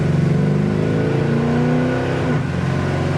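A 1969 Pontiac Firebird engine accelerates hard on kickdown, a loud, steady, close-up roar with a rising whine partway through as revs climb, heard from inside the car with no talk.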